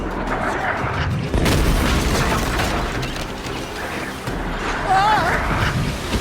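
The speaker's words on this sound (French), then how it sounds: "Attention! Tir de mortier!" Mortar fire from a galleon in Assassin's Creed Black Flag: deep booms and rumbling blasts fill a dense, continuous battle soundscape of clatter and noise, with voices talking over it.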